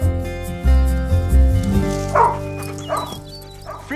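A dog gives a series of loud, close barks and yips that break into high whimpers, the sounds coming in uneven bursts over several seconds with no one speaking.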